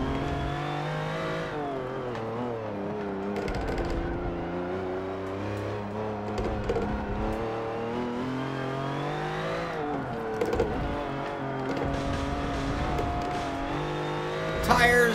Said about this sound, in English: Tires going down the road.